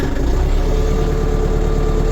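A steady engine idles close by while warming up, a continuous low rumble with a faint mechanical hum that holds constant throughout.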